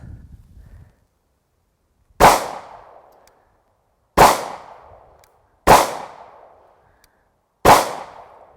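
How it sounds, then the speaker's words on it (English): A Shield 9mm pistol with hi-viz sights fires four single shots at a range, each a sharp loud crack with a short decaying tail, spaced about one and a half to two seconds apart. "we're just going to start taking some shots with it and see how it does"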